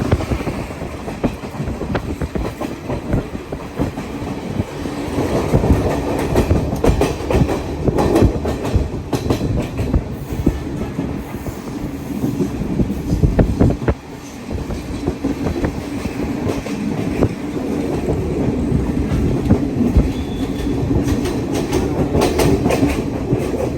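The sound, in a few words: train at Kandy railway station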